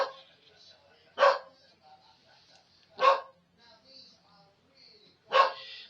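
A dog barks at someone outside, three sharp single barks spaced a couple of seconds apart, fairly close in a quiet room with faint background sounds between them.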